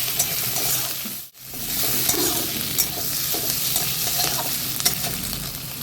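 Boiled potatoes stirred and fried in a pan of spices for Bengali banana flower (mochar ghonto) curry, a steady close sizzle with scraping stirs throughout and one brief break in the sound, no talk.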